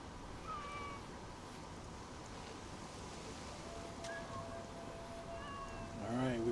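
A cat in the video game Assassin's Creed Shadows lets out a few faint, short meows, spaced apart over a steady wash of outdoor ambience.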